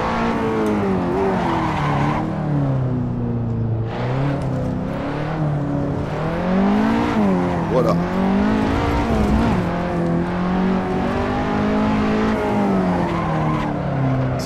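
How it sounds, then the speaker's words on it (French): A 300-horsepower KTM X-Bow races a timed lap on the Faveyrol circuit, its engine rising and falling through gears with loud, close revving and tire squeal, no talk over it. "pas facile à conduire cette KTM Xbo"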